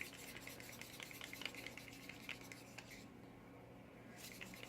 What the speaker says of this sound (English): And give the gold a nice mix here.